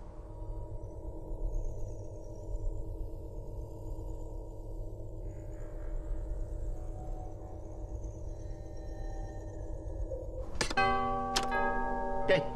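A doorbell in the video game LEGO Star Wars: The Skywalker Saga chimes in two bright, ringing tones near the end, over a steady bed of low game music.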